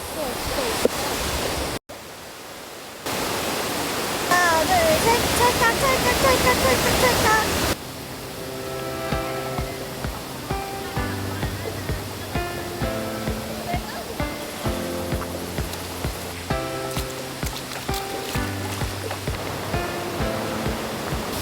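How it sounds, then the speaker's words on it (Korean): A waterfall in a mountain valley pours loudly and steadily for several seconds, then gives way to a quieter background with tonal, music-like sounds. "여기 또 데크가 보이는데 폭포가 흐르네."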